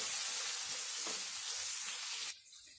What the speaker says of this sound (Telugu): ఇవన్నీ ఒక 1 మినిట్ ఇలాగే ఫ్రై అవ్వనివ్వండి